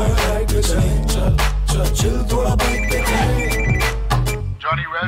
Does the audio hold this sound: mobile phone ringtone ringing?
yes